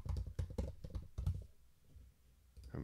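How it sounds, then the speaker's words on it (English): Rapid keystrokes on a computer keyboard, a quick burst of about a half-dozen close, fairly faint clicks, then a pause before another tap at the end, with no speech. "having trouble typing today"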